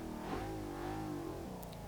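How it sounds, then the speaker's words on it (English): A 2015 Ford Mustang GT V8 in Forza Motorsport 6 revs high and smooth, its engine note climbing and holding for a couple of seconds before easing off, fairly close and alone. "it does rev really quite high for a standard V8 Mustang"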